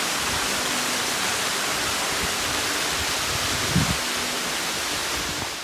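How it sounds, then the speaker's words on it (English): A steady, loud wash of falling water pours down from just below the top of the Bheemuni Paadam waterfall, a constant hiss with one small bump near the middle before it eases slightly at the end. "Water flowing right below my feet."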